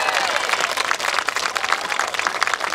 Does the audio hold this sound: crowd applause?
yes